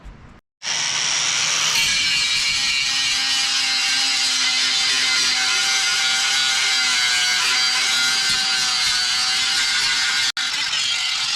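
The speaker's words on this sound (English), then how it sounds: "So I'm gonna take the grinder and we'll clean all this up" An angle grinder cleans up the broken metal deck of a Cub Cadet XT1 mower, running as a steady high-pitched whine close by for about ten seconds, with a brief dip near the end.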